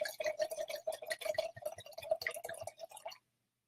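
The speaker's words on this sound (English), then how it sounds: "All right, pouring a glass." Wine pours into a glass in a steady, gently gurgling trickle with small splashes, close and quiet, stopping abruptly after about three seconds.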